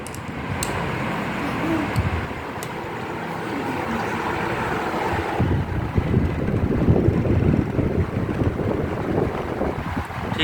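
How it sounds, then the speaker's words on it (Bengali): A battery-powered rechargeable electric fan running, producing a steady rushing whoosh of air close to the microphone that grows into a louder, rumbling gust about halfway through. "এখন আপনাদের একটু ফ্যানটা ঘুরিয়ে দেখাই আসলে স্পিডটা কেমন হয়"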